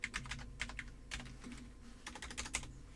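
Keys clatter on a computer keyboard in quick, irregular bursts of clicks, close and fairly quiet, with brief pauses between flurries.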